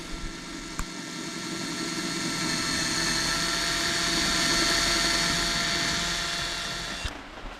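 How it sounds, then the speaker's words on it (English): A drill bores a slightly larger cable hole on a boat, giving a steady, sustained mechanical whine that swells gently and then fades, with a couple of short clicks. "drill a slightly bigger hole for a cable"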